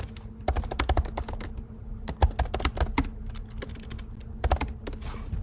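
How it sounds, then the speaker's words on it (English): Quick, uneven keystrokes on a computer keyboard, close and crisp, with short pauses between bursts while someone types freely into a blog editor. "You could just, type as you like."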